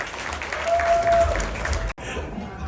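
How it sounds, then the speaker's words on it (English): An audience claps at a Philippine Hot Wheels collectors' convention, a moderate burst of applause with a faint tone running through it, cut off abruptly near the end. "let's give him our warmest applause"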